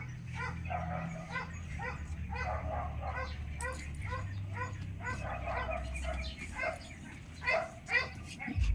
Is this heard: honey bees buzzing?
no